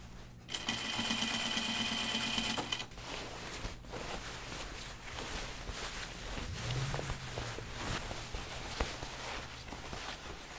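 A sewing machine stitching denim jeans runs in one loud, steady burst of rapid stitching, then stops, leaving quieter handling and rustling noises.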